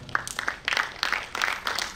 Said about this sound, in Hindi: हम जितने भी हैं अपनी तालियां बजाकर कलाकारों का अभिनंदन कर सकते हैं